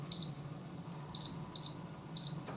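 Four short, clean electronic beeps from the controller of a Pit Boss Lexington pellet smoker as the timer is set, spaced about half a second to a second apart over a low background hum, with no talking.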